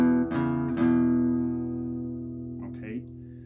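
Two guitar strings ring together with a couple of plucked changes, sustaining and slowly decaying.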